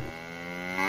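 A single drawn-out cow moo, a resonant tonal call that rises slightly in pitch and grows louder toward the end, heard alone and close.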